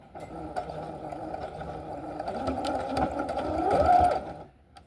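A sewing machine stitches a rolled hem on a linen underskirt for a 1950s dress, a steady close whirring run that swells slightly toward the end before stopping abruptly.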